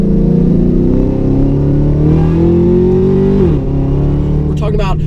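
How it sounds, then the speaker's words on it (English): A modified 2013 Chevrolet Camaro ZL1 with about 670 horsepower revs hard at full throttle out of a tight corner, its engine note climbing steadily, then dipping briefly before pulling on, loud and close inside the car. "I'm gonna give it full throttle out"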